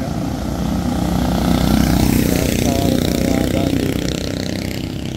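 A motorized tricycle engine drones loudly and continuously on a busy provincial road in Quirino, Isabela, its rough motor note rising slightly mid-way as it passes close by.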